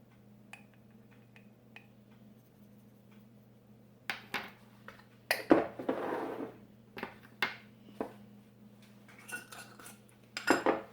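A measuring spoon clinks lightly against a bowl as salt and cumin go into a low-carb Mexican cornbread batter. Several sharp metallic taps come in scattered clusters, with a brief rustle in between.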